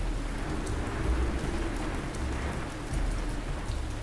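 Steady rain falls in the game Ancient Cities, a dense continuous patter of drops on surfaces with a low rumbling undertone, even and unbroken throughout with no voices.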